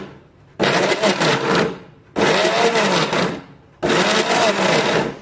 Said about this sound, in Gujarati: હવે આ રીતે પલ્સ મોડ પર થીક શેક બનાવવાનું છે